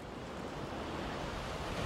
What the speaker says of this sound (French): il reste à affronter, sous les regards narquois, les fortes vagues de l'océan Indien